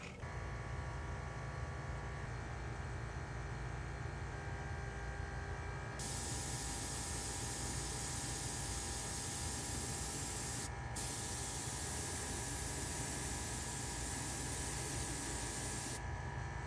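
A spray gun sprays paint onto a Firebird car inside a spray booth, a loud, steady hiss in long bursts with two brief breaks, over constant booth ventilation noise.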